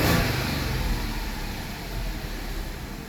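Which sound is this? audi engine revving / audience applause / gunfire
audi engine revving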